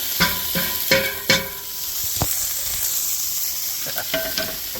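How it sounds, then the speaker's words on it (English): Chopped bacon sizzles and crackles in a hot cast iron pan, a steady hiss with a few clattering stirs and scrapes near the start and end. "I've got my bacon chopped up, and into the hot cast iron pan we go. Nice sizzle."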